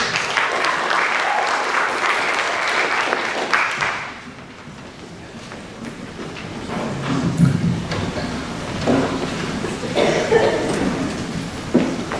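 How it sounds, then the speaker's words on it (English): A round of applause from the audience at a high school World Language Honor Society induction ceremony, steady and full for about four seconds, then thinning into scattered claps and room murmur. "Let's give a round of applause for everybody."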